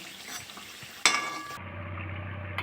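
Biscuits made from atta and semolina fry in hot oil with a steady, close sizzling hiss, broken once by a sharp clink of a utensil against the pan.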